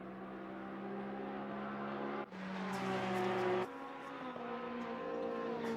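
Race car engines roar in the Assetto Corsa Competizione sim during an online league race, with a loud sustained drone that shifts pitch as cars pass and change gear, continuous and close with no talking.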